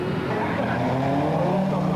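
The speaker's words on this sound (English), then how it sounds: "the 4 super trucks stormed towards the first corner" Four Ford Courier super trucks roar toward the first corner of a 1998 Super Series race, a dense blended engine howl with rising and falling pitch sweeps, loud and continuous, with a commentator's voice over it.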